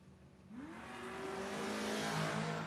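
A third-generation Camaro and a Duster launch side by side at a drag strip, engines rising from idle into a loud, building roar of hard acceleration heard from trackside.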